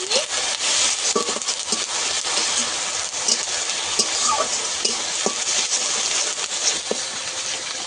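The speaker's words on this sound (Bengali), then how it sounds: "পেঁয়াজটাকে আমি একটু লাল লাল করে ভেজে নেব" Coarsely ground onion mixed with ginger and black cumin seeds frying in oil, a dense, steady sizzle with frequent scraping stirs of a spatula across the pan, close and continuous without any voices.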